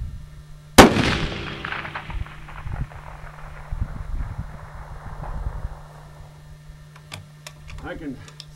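A single sharp, loud rifle shot from a home-made sniper rifle at an outdoor shooting range, with a long fading rumble afterward, then faint handling noises and brief talk.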